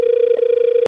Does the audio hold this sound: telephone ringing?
yes